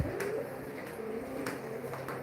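Birds call outside, with soft cooing like pigeons or doves repeating at a moderate distance over a quiet background.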